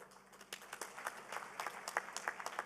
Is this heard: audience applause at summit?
yes